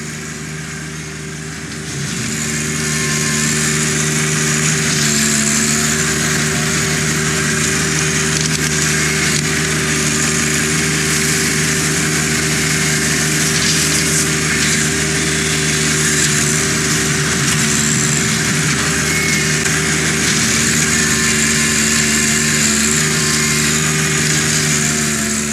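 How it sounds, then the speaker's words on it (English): A tractor engine runs steadily and loudly in four-wheel drive, with the bucket pushed into a gravel pile to scoop and spread rock while building a parking pad; no speech. "Make sure that you engage your 4-wheel drive on your tractor as you're inserting the bucket into the rock"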